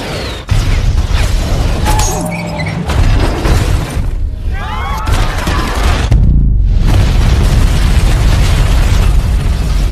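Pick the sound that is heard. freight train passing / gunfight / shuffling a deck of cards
gunfight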